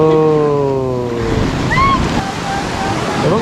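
Sea waves roll and break on a beach in Goa, making a loud, continuous broadband surf roar with wind noise, and faint voices are heard early on.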